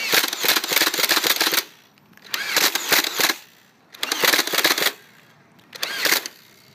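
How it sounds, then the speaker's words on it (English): Two modified Nerf Stampede blasters joined to fire from one trigger at 18 volts, with top and bottom magazines, unleash four loud bursts of rapid dart fire, each a rattling mechanical volley of about a second separated by brief pauses. "so now they both fire just on one trigger"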